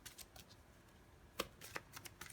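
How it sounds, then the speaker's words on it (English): A quiet, brief riffle of cards being shuffled, with a few soft flicks and snaps close by. "give it a shuffle"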